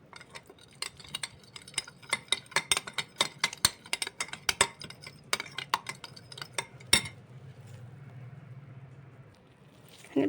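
A utensil stirs and mixes chicken marinade ingredients in a dish, making rapid, irregular clinks and taps against the container, then softer scraping toward the end.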